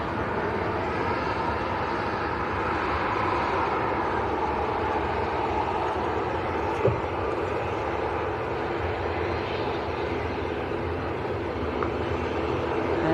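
An Aer Lingus airliner taxis at Manchester Airport, its engines giving a steady, fairly distant jet roar and hiss that carries through the whole stretch with only slight swells.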